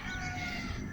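Chickens on a ranch where fighting roosters are kept: a steady, dense farmyard din of clucking and crowing fowl, continuous and fairly loud throughout.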